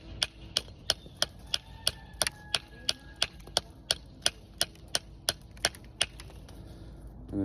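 Masonry work trimming and shaping a stone edge with a hand tool: a steady run of sharp, evenly spaced taps, about three per second, close and crisp over faint background noise.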